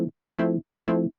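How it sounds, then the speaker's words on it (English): Pluggy Yamaha Reface CS synth tone from the pulse oscillator: three short plucked notes with quick decays, evenly spaced, close and clear with no talk. "I programmed this pluggy sound based on the pulse oscillator."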